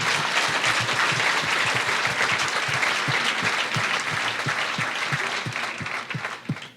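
A room full of people claps steadily, a dense wave of applause that holds for several seconds before tapering off.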